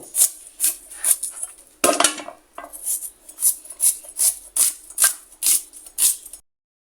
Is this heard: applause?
no